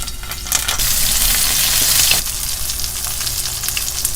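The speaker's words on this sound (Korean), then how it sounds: "절여둔 가지를 고소한 들기름에 구워볼게요." Salted eggplant slices sizzle in perilla oil in a hot pan, a loud steady hiss that swells and then settles to a softer crackle, with no talk.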